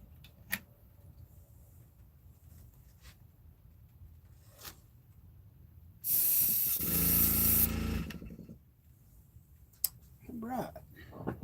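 Paint sprays onto a handmade wooden fishing bait in a smooth, even two-second hiss without sputtering, loud and close, set among quiet ticks and faint handling noise.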